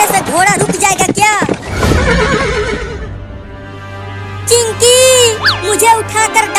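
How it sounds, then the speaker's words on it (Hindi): A horse neighs loudly several times with shrill whinnies and hoof clatter between, in a comedic scene with people speaking over parts of it. "ये मेरा घोड़ा तो रुक ही नहीं रहा"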